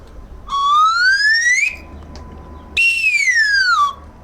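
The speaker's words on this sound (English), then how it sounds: "It's called the American slide whistle." An American slide whistle plays two clear, loud sweeps: a long rising glide, a pause, then a long falling glide, pure and bright, heard alone.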